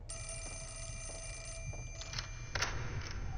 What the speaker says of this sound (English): Did the phone really have to start ringing after I walked by it?